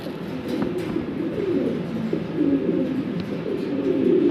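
Fancy pigeons, including Mundi pigeons, coo in low repeated murmurs under a steady background din, the calls overlapping at close range.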